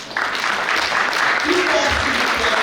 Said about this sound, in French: Je vous demande, chers parents, de vous applaudir vous-même parce que ça n'a pas été facile.